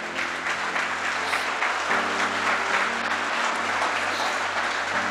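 Steady applause from a church congregation during a sermon fills the room, loud and continuous, with a sustained musical tone underneath.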